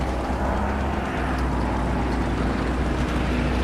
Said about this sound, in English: I'm so hoping that engine noise is from that T-34.